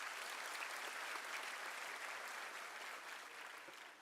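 Audience applause at a University of South Africa autumn graduation ceremony, a steady, dense roar of many hands clapping continuously throughout, fairly loud and even, tapering only slightly at the end.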